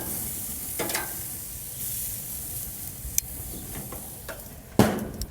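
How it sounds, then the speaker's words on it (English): Sirloin steak tips cooking on a gas grill, a continuous close sizzle and hiss with a few sharp clicks and a louder burst of crackle near the end, no voices. "As soon as I put the steaks on there, I'm going to close the grill up 2 to 3 minutes and let them cook so we retain the heat."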